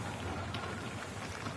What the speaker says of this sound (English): There's always a danger with this much rain